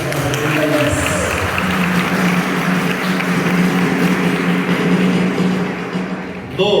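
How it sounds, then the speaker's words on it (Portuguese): Worshippers at a church retreat in Patos de Minas clap together for Jesus, a broad crowd noise with a low hum and some background voices running underneath, ending abruptly. "Vamos aplaudir Jesus, né?"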